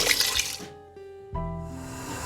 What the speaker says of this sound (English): Now I'm adding in the water.